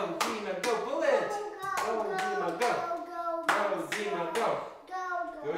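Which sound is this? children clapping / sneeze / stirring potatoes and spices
children clapping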